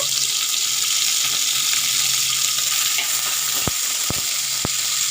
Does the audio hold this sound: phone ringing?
no